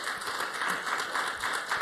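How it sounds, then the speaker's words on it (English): Applause from an audience at an energy efficiency and natural gas forum, a steady dense wash of many hands clapping throughout, fairly faint and distant. "Round of applause for Paula Glover,"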